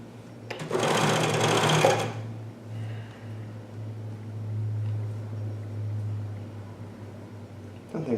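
A Janome 634D CoverPro 1000 coverstitch machine sews knit bamboo fabric, opening with a loud close mechanical whir for about a second and a half, then a steady lower hum as it runs on.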